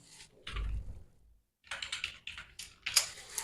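Computer keyboard typing while filling in an online application form, with bursts of close, crisp key clicks separated by short pauses and a longer gap in the middle, with no talking over it.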